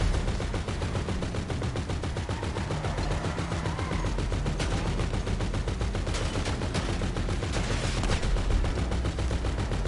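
Rapid automatic gunfire in GTA 5 rattles continuously while the players shoot at helicopters, a dense and loud barrage of bursts with heavier booms mixed in.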